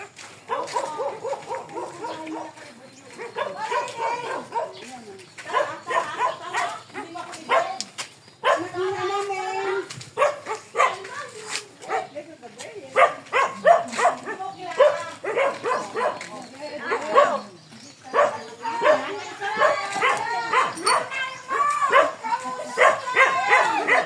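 Several dogs bark and yip repeatedly at close to moderate distance, mixed with people talking over them throughout.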